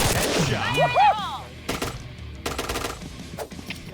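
Gunfire in the shooter game Point Blank crackles in short rapid bursts mid-clip, with a brief swooping tonal sound at the start and light ambient noise between shots.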